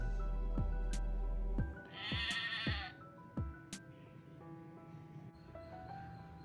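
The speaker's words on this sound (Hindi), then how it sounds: "भेड़," A sheep gives one clear, close bleat amid soft background music and light rustling.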